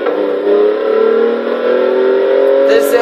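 A 2014 BMW i8 engine in Forza Horizon 3 holds a steady, loud, sustained drone, rising slightly in pitch as it revs during a race against a McLaren F1.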